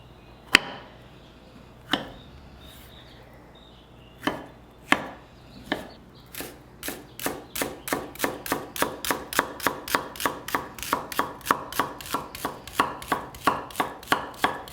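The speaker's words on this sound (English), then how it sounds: "So we're going to cut it into strips like this and then cube it" A knife cuts fish into strips and then cubes on a board for artichoke brandade, starting with a few slow separate chops and building to a quick, steady run of crisp knocks.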